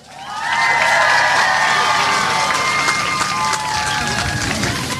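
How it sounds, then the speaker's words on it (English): A large crowd at a high school commencement ceremony claps and cheers loudly, with whoops and shouted voices riding over dense, sustained applause that stays strong throughout. "Please give them a round of applause."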